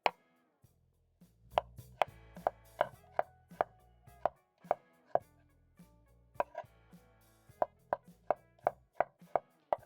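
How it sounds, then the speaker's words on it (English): An onion being chopped with a knife on a board, about twenty crisp, evenly spaced thuds at a steady rhythm, close and clear with no talk. "I'm going to quickly chop up my onion."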